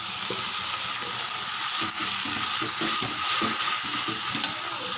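Tomatoes, ginger, garlic and mint sauté in a pan with a steady close sizzle, broken by repeated scraping stirs of a spoon against the pan.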